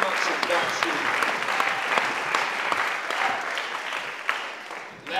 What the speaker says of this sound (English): those who are clapping because they care too much about you